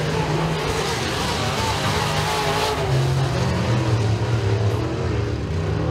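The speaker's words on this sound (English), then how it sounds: "Coming out of turn 4, Garrett Calvert's going to pick up the victory in heat race number 2 for the Johnson's Car Care Collision Econo Mods." Econo Mod race cars roar through a heat race at Eriez Speedway, a dense continuous engine drone with rising and falling revs, while an announcer's voice is partly heard over it.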